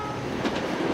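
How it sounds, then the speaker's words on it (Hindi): An express train rushes past close by in a loud, steady rumbling roar with a faint rhythmic clatter, only a brief moment of it heard. "वो रेल कितनी तेज थी, कितनी तेजी से निकल गई थी ना"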